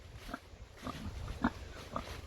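Pigs grunting outdoors in a pen, a handful of soft, spaced grunts at moderate distance over low background noise.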